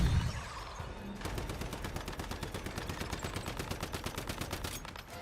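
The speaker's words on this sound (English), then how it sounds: "Gonna actually shoot her down with the sniper from there before I run out of." Rapid gunfire in the video game Once Human, a dense run of evenly spaced sharp shots that continues steadily for several seconds at moderate level.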